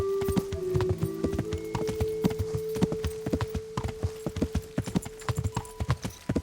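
A black horse wearing armor in the video game Kingdom Come: Deliverance trots along, its hooves clip-clopping in a steady, close rhythm over a low sustained tone, with sharper, more distinct hoofbeats toward the end.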